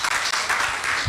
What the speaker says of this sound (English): make we clap for her